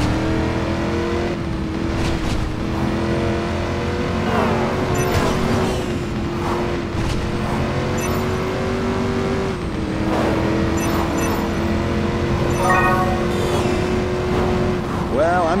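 A video-game car in Driver: San Francisco drives and corners, its engine holding a steady droning tone that rises and dips with shifts, with occasional tire noise, loud and continuous while voices talk over it.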